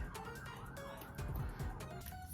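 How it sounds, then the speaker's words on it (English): Faint sirens wail in the distance, rising and falling under a steady background hiss. "More sirens."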